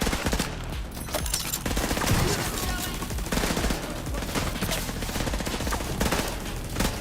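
Repeated gunfire from a game's realism mode, shotgun blasts mixed into dense, busy shooting that runs the whole way through at steady loudness.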